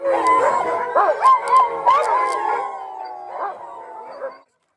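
Sled dogs howl and bark together in Norway before a winter sled ride, a chorus of overlapping yips and long howls, close and loud for several seconds before cutting off.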